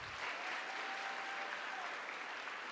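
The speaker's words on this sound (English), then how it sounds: "Let's give these students and honorees another round of applause." A seated audience at a university commencement ceremony claps steadily, a dense, even wash of applause heard from a distance and fairly quiet throughout.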